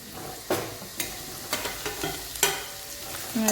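Gunda, Indian cordia berries, dropped into hot oil with asafoetida, a moderate sizzle broken by repeated sharp stirring clinks and scrapes of a spoon against the pan, no speech.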